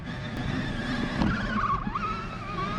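An Axial SCX6 RC crawler works across rough badlands terrain, its motor whining steadily with a rising and falling pitch as the tires scrabble over rock, close and continuous throughout.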